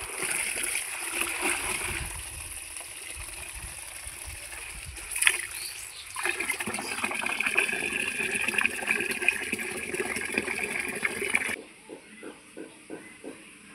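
Kharkol leaves are washed by hand in a basin of water, with sloshing, splashing and rubbing that build up midway, then settle into a few slower, separate dips and drips near the end.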